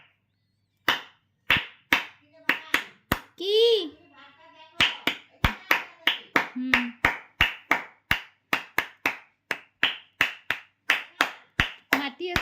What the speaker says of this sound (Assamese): এনেকে হাত তালি বাজালে